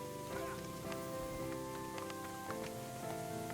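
Faint, steady rain patters in the video game Rise to Ruins, a soft continuous hiss of drops sitting quietly under sustained tonal background music.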